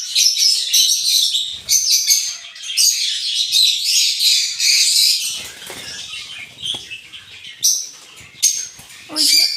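Lovebirds and their young chirp and squawk in a home enclosure, close and busy with overlapping high calls, plus bursts of wing flapping and a few scattered louder squawks.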